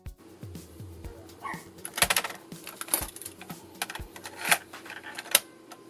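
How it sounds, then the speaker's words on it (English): A tape cassette is pushed into a tape drive, giving a run of clicks and mechanical clunks with small thuds, close and moderately loud, against a faint steady hum. "we'll get this into a tape drive"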